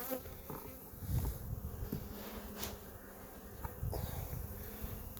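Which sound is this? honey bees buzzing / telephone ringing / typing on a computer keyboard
honey bees buzzing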